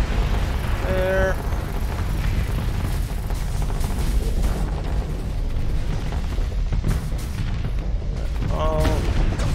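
Spaceship weapons firing in the Starsector space combat game, a dense, continuous barrage of booming shots and blasts, loud and constant, with a brief tonal alert sounding twice.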